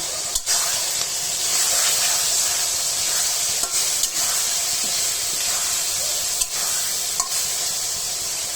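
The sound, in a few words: ginger garlic paste, cardamom, bay leaf sizzling for fried rice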